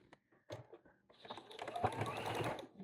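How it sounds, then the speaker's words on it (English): A sewing machine runs a top stitch along a flannel infinity scarf, starting with a few short taps before settling into a steady, close whir for the second half. "So again, just a top stitch, about 1/8 of an inch all the way around."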